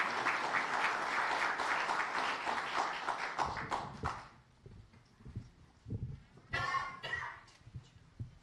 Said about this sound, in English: Can we give all of our DARE readers another round of applause?